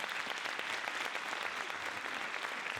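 Steady applause from a crowd, a dense patter of many hands clapping at even loudness throughout, with no voices standing out.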